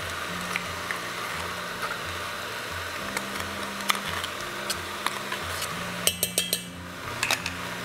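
A spoon stirs bolognese meat and tomato paste in a cocotte, making repeated metallic scrapes and clinks in a loose rhythm, with a few sharper taps toward the end.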